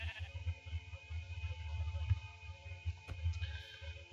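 Several short bleats from Minecraft sheep sound in quick succession, close and moderately loud, forming a choppy string of calls with a faint click partway through.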